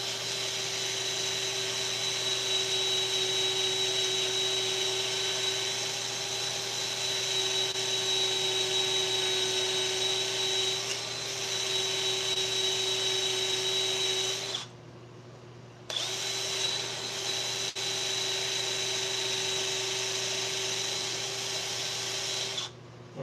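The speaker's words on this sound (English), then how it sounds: "That's all I needed to do was just that little bit of sanding to get that right." Steady high-pitched whine of a wooden winged bowl spinning on a lathe while being sanded, continuous and close, with a brief pause near the end before it resumes.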